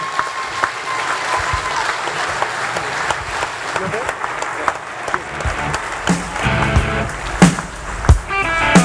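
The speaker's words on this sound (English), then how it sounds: "Ladies and gentlemen, big round of applause" Sustained audience applause at a New Zealand shearing championship evening, broad and steady throughout, with an announcer's voice and a few louder claps and whoops rising toward the end.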